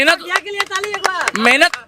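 Hands clap in scattered, uneven bursts under a man's continuous nearby speech, the claps sharp but partly masked by the talking.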